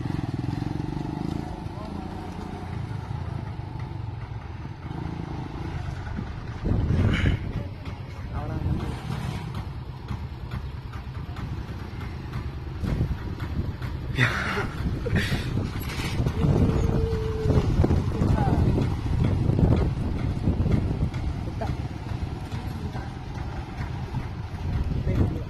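A modified TVS Star City motorcycle engine runs continuously nearby at a steady idle with wind noise, while people talk over it.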